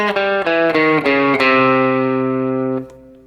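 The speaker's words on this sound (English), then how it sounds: "the 7th and final mode of the double harmonic minor scale is called the Phrygian flat 4 double flat 7, otherwise known as the ultra Phrygian scale" Guitar running through the ultra Phrygian scale, the seventh mode of double harmonic minor, as a quick series of single distorted notes that settles into one long sustained note before fading out.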